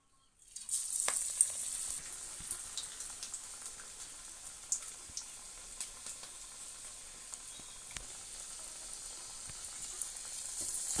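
Drumstick-leaf vadas fry in hot oil with a steady, bright sizzle and scattered crackling pops, close and fairly quiet, with no talking.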